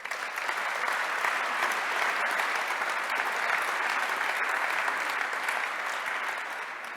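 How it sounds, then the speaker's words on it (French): Sustained applause from an audience at the 2020 cycling-friendly cities award ceremony, a thick wash of many hands clapping evenly before tapering off slightly at the end. "on peut l'applaudir."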